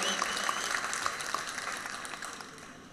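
Sustained applause from an audience at a political rally, a dense even patter of many hands clapping that holds steady and slowly fades over a few seconds, with no talk over it.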